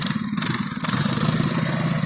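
An Irbis Tungus 600L snowmobile engine runs close by with a rough, pulsing mid-pitched drone and mechanical clatter, holding steady revs without a clear climb or drop.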